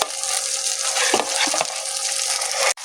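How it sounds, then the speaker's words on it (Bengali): Fried potatoes and chicken pieces stirred into sizzling spiced masala for a Bengali coconut chicken curry, a loud continuous frying hiss with scraping stir strokes in the middle and a brief break near the end. "এখন আমি এর মধ্যে দিয়ে দেবো ভেজে রাখা আলু আর চিকেনের পিসগুলোকে"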